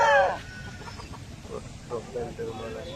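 An Aseel chicken gives a sharp, loud cluck up close, then a few softer broken clucks, while someone talks over them.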